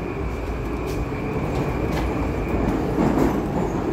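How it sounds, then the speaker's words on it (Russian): Interior of a moving Moscow metro train, type 81-775, with a steady loud rumble of wheels and motors, a constant high electrical whine and occasional rattles and clicks from the carriage. "Это у нас салон самого первого поезда."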